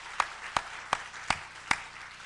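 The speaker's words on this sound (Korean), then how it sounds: "뜨거운 박수로 다시 한번 격려하겠습니다" Five sharp, evenly spaced claps after a mission lecture at a church gathering, each crisp and distinct over a quiet room, like a few hands beating together in slow rhythm rather than full applause.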